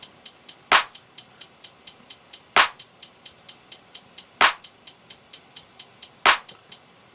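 A drum beat programmed in FL Studio plays crisp, evenly spaced hi-hat ticks in a fast steady pattern, with louder default clap hits landing on a regular backbeat, clean and dry with no other sounds.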